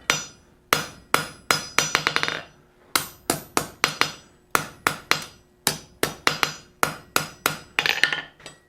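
A hammer forges hot iron on an anvil while a double boss slot is shaped, striking in quick bursts of four or five ringing blows separated by short pauses, loud and close.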